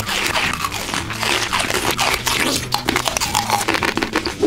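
Crunchy biting and wet chewing of blue-dyed watermelon, loud and close, with repeated bites and mastication throughout and no talking.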